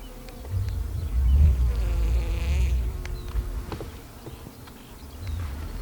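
Bees drone around a beehive, a few agitated ones pushing out of the entrance, with a close buzzing hum that rises and falls as single insects pass by.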